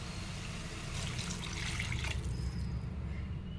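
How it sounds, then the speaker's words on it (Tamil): Water poured into a pot of sautéed mutton while making mutton biryani, a steady splashing, gushing pour that fills a few seconds up close, then tapers off as the stream eases. "மட்டன் நல்லா வதங்கிருச்சு தண்ணி சேர்த்துக்கலாம்"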